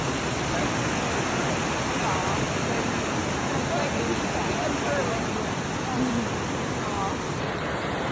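A waterfall in Sweden, visited on a school field trip, pours in a constant rushing roar that fills the scene evenly and steadily, with faint voices buried beneath it.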